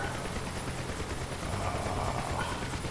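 A DCS flight-sim helicopter winds down after throttle-down, its engine at low RPM giving a steady, continuous drone with a faint high whine, running alone and evenly throughout.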